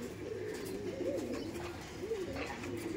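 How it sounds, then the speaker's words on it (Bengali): Giribaz pigeons of the Chotiyal Sudri type coo in soft, rolling low calls, repeating steadily at close range over a quiet background with no voices. "দেখুন এটা হলো চটিয়াল সুদরি পায়রা"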